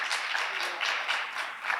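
An audience at a town hall meeting on public safety applauds, a soft, continuous wash of many hands clapping that sounds distant and muted and holds steady throughout.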